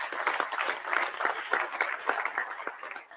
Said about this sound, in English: Can we have a loud round of applause?